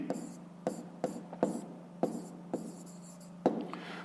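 Pen strokes writing numbers by hand during a fifth-grade math exercise on fractions: a close series of short, crisp scratches and taps in an irregular rhythm, with a brief rubbing stroke at the end.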